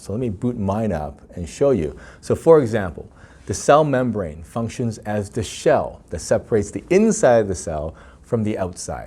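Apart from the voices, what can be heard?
None of the usual background noises is heard.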